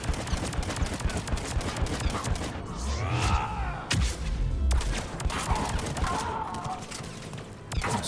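Rapid bursts of turret gunfire in a Mass Effect 3 battle, loud cracking shots layered over explosions, whooshing effects and a sweeping rumble, continuous and busy throughout.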